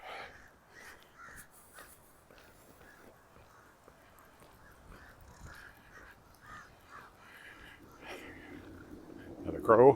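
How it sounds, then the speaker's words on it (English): A crow caws repeatedly beside a lake on a chilly walk, a string of short hoarse calls at a steady pace, moderately distant, with quiet talk and footsteps near the end. "Another crow."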